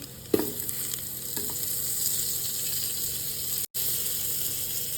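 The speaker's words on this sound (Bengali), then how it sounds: "সবজিগুলো দিয়ে দেবো পেঁয়াজ দিয়ে দিচ্ছি" Onions and chopped vegetables drop into a hot pot for chicken soup, setting off a steady loud sizzle with a couple of soft thuds at the start and a brief cut near the end.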